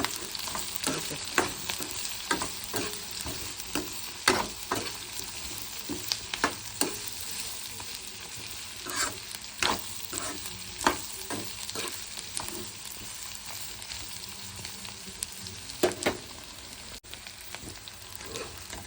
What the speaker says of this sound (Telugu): ఇవి పింక్ కలర్ వచ్చే వరకు వేయించుకోవాలి ఇందులోనే మూడు మూడు నాలుగు పచ్చిమిరపకాయలు వేసి